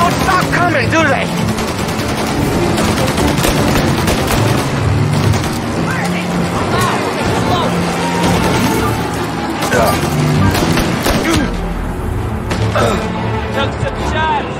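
Gunfire in Mafia: Definitive Edition, with bursts of shots and booming hits packed densely through a busy firefight, heard under voices and game sound throughout.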